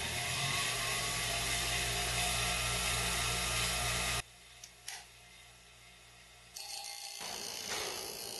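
A grinder shaping a metal lock pick, a loud, steady whirring grind for about four seconds that drops to quieter mechanical rattles and faint contact noises, then picks up again at a low level.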